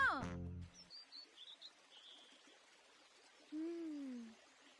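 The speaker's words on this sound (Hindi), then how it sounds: "कितनी अच्छी चिड़िया है।" Bird in an animated cartoon gives a short run of bright, rising chirps after a brief opening sound, then a longer, clear, swooping whistle-like call toward the end.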